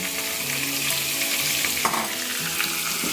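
Masala mixed with a cashew and poppy seed paste is stirred in a pan for chicken chaap, giving a steady close sizzle with soft scraping stirs and a couple of brief clinks, and no talk.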